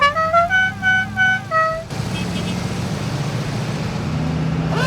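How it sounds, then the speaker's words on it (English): A Dixie horn plays its tune loudly outdoors, a run of bright tonal notes in the familiar melody lasting about two seconds, followed by steady engine and road rumble from a car. "we got the holy trinity of how random this Dixie horn is"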